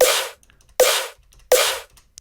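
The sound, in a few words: punchy beatboxed snare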